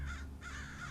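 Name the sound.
crows cawing in the woods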